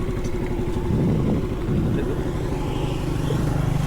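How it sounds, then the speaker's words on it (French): A motorcycle engine runs steadily close by on a street in Da Nang, Vietnam, a continuous mid-pitched drone with slight revving throughout. "Ouais, c'est une moto quoi."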